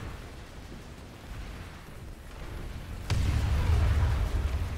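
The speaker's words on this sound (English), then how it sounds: "Large explosion just occurred." A large explosion in the video game Planetside 2 lands as a sudden loud boom partway through, then a heavy low rumble holds to the end over steady background game noise.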